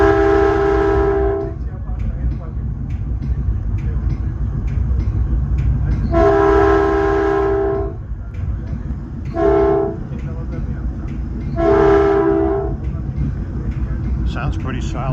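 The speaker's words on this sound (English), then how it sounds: "This has a really good horn." A Caltrain cab car, number 4011, sounds its horn in a long-short-long-short pattern of chordal blasts over the rumble of the moving train, with some talk in between.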